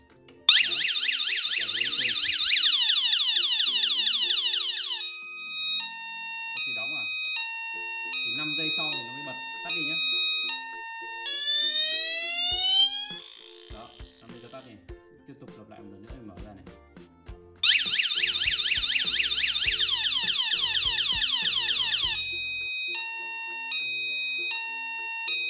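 A smart home alarm siren set off by a Zigbee door sensor blares in loud, repeated electronic wailing bursts, with quieter beeps and a voice talking between the two siren blasts.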